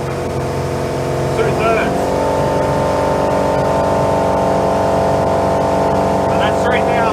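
A 34ft Hartley timber boat's engine drones loud and steady near full throttle, a continuous heavy hum with someone speaking briefly over it.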